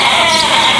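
Sheep bleating on a Minnesota farm, a loud, close, continuous bleat filling the short moment with no other sounds.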